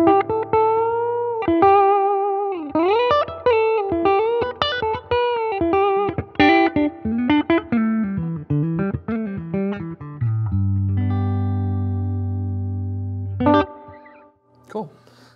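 A Gretsch Electromatic hollow-body electric guitar plays a melodic run of close, clean single notes with bends, then lets a low sustained chord ring before a last few notes.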